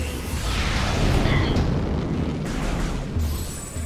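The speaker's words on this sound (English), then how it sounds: "Oh man, I just obliterated that one with a super missile." A loud, sustained super missile explosion in Metroid Prime Remastered, heavy low boom with rumbling, crackling and roaring debris noise throughout.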